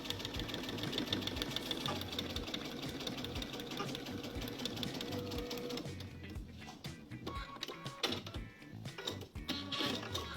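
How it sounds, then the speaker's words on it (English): A sewing machine stitches a line on a quilt-as-you-go border, its needle rattling in a rapid, steady mechanical rhythm up close, easing into uneven bursts and clicks toward the end. "I'm just going to head to the machine and sew my last line."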